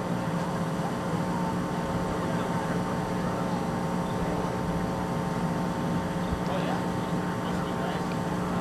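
A Delta II rocket launching from Vandenberg AFB gives a steady, distant, broadband engine roar that holds evenly throughout, with faint voices over it.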